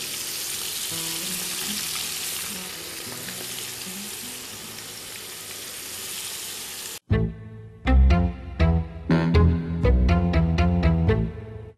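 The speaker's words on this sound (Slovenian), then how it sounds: "Nakon što smo naše lignje stavili pržit" Squid pieces sizzling and frying in moderately heated oil, a steady loud crackling hiss for several seconds, then louder bursts and clattering of stirring and utensil knocks.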